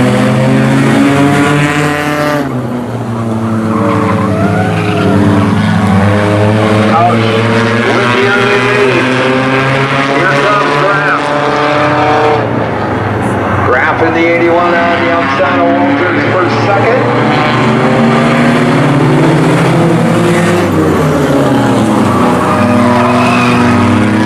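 Race cars roar around the track in a Jefferson Blackjack Brackets hooligan bracket race, a loud continuous layered engine drone with pitch sweeps as cars pass, steady throughout, with a commentator talking over the noise.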